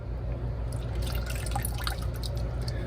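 Water trickles and drips around a dropped iPhone just lifted from water, a continuous soft splashing with scattered drips over a low steady hum.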